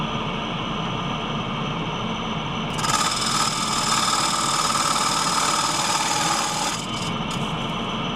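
A wood lathe spins wet cherry while a small scraper cuts it, making a steady rasping, scraping hum over the motor. The cut gets louder and brighter from about three seconds to nearly seven seconds, then eases back to the quieter hum.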